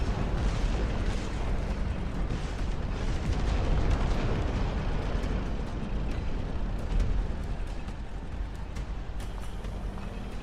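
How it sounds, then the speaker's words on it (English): Continuous heavy rumble of explosions as supply depots are blown up in the Dust Front RTS game, with dense, loud booms and blasts layered over one another for the whole stretch, no talk. "I shot a gas, what I thought was a gas canister, and it was in fact an explosive"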